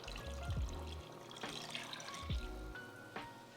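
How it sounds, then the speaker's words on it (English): Two cups of beef broth pour into a pot for American goulash, producing quiet, close liquid splashes and gurgles in a few short bursts. "I'm going to add in my 2 cups of beef broth"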